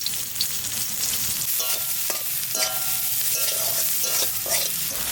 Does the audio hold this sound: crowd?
no